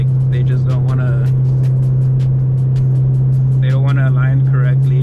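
A 5th gen Chevrolet Camaro SS V8 with an exhaust leak idling close by, a loud steady low drone throughout while someone talks over it.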